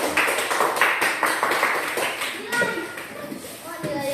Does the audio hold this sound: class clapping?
yes